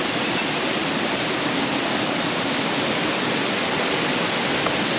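A river stream rushing past a fallen tree jammed among the rocks at a riverside in Orsigna, Italy, steady and loud, with a dense unbroken wash of flowing water and no voices.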